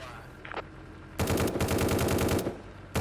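Gun in the VR game A Terrible Place firing a fast, loud automatic burst of rounds after a quieter lead-in, with a second burst starting at the very end.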